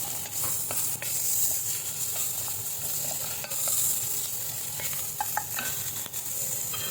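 Garlic fries in a little oil in a pan, a steady close hiss and crackle with scattered light taps and scrapes of a utensil moving it around, and no one speaking.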